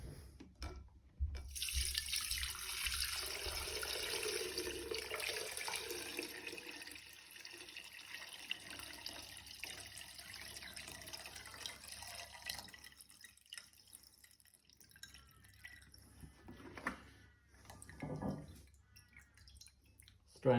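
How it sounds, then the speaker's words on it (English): Homemade hand sanitiser pours through a strainer into a jug, a close, steady liquid stream that thins into trickles and drips, with pauses and a few quieter gurgling bursts later on. "pour it out through a strainer into a jug"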